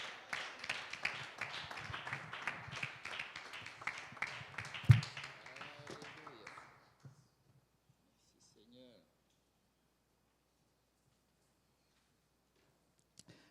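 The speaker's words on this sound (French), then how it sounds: "Est-ce qu'on peut l'acclamer encore une fois?" A church congregation applauds, a dense patter of clapping hands that swells with a few sharper claps, then fades out quickly into near silence with faint scattered taps.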